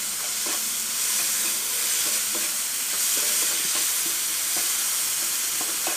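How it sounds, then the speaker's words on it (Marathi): Masala stuffing for stuffed capsicum, with garam masala and salt, sizzles steadily in a pan while a spoon stirs it in repeated scraping strokes, close and alone. "आता ह्याच्यामध्ये मी हा मसाला घालून घेते 1 चमचाभर आणि गरम मसाला, चवीनुसार मीठ घालून घेऊया आणि सगळं मिक्स करून घेऊया व्यवस्थित।"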